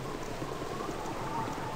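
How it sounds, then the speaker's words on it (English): Steady rain falls in a video game town, a constant even hiss of drops on surfaces with no breaks and no voices. "Lots of kids out right now in the rain."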